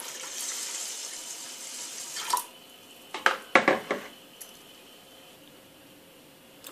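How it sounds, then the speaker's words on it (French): Water is poured into a pot of rice and chicken biryani, a faint steady stream followed by a few splashy pours and clinks of the pot, quiet and close with no talk. "maintenant je vais rajouter de l'eau"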